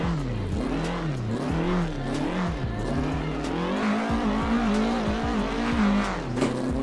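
A Doğan SL car in Assetto Corsa on the winding Mulholland roads revs and accelerates through gear changes, its engine note rising and falling with repeated tire squeals and skids through corners.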